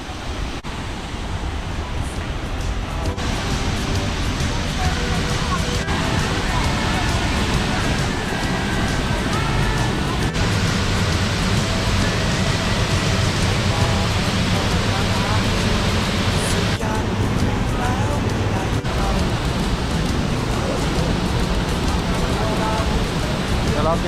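A waterfall at Khao Yai roars in a loud, continuous, broadband rush that holds steady throughout, with voices faintly audible beneath the water noise at moments.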